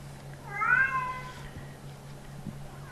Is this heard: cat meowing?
yes